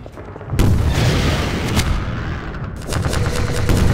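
Rocket launcher firing and blasting in Half-Life 2, heavy booming explosions and rumbling impacts that overlap into a loud, continuous roar of combat noise.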